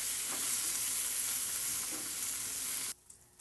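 Asparagus frying in a pan on the stovetop for an asparagus frittata, a steady, close sizzle that fills nearly three seconds before cutting off abruptly into near quiet.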